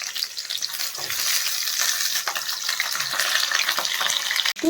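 Stuffed capsicums sizzle steadily in hot oil in a pan, a loud continuous frying hiss with occasional stirring scrapes and no talk.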